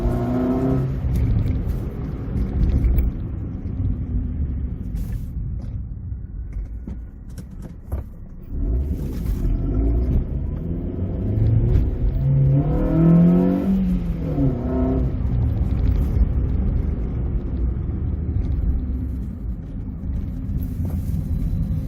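Car engine revved against a brick building on a busy Friday night, rising toward peak power: a steady close rumble that climbs in pitch around the middle, then settles, with continuous low road noise.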